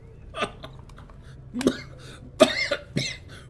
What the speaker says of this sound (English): Oh, you're coughing.